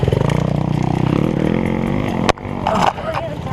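A trail motorcycle engine idles and sputters close by in a fast, steady chug, then cuts out abruptly, followed by rustling and a voice speaking.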